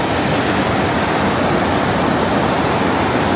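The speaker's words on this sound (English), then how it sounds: "I could literally hear the ocean." Ocean waves on a Sri Lanka shore make a loud, steady, broadband roar that stays constant without distinct breaks, like continuous surf heard nearby at night.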